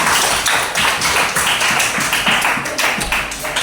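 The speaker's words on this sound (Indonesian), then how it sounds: "tepuk tangan buat Mega" A classroom of students claps hands together for a classmate, a fast, fairly loud patter of many hands with slightly uneven rhythm, filling the whole moment without talk.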